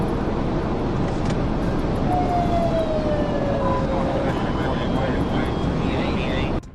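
Police car siren sounding during a high-speed pursuit, a steady wailing tone riding over loud continuous road and engine roar, moderately distant and partly masked by the constant noise.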